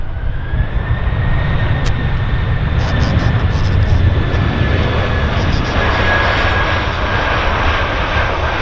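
A KLM jet airliner lands at Vancouver International Airport, its engines producing a loud, sustained roar with a steady high whine that holds throughout.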